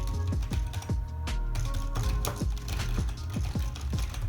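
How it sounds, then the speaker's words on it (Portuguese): Someone types on a HAIZ HZ400 gaming keyboard, giving rapid, uneven clicky keystrokes that clatter close up with no talking. "eu vou até estar digitando aqui para vocês escutar mais ou menos"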